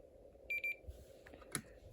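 A Snap Circuits SC-750 alarm integrated circuit gives two short electronic beeps, faint and thin, then a brief click-like burst against quiet hiss.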